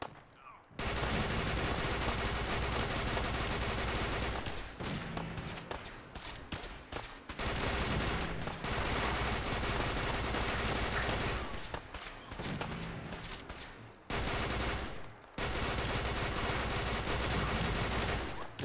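Gunfire in Fallout 4: loud, sustained bursts of rapid automatic shooting broken by short gaps, with several long volleys stacked into a harsh, continuous roar.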